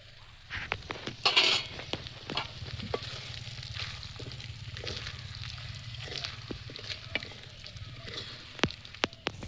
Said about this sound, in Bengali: টমেটো দিয়ে দিচ্ছি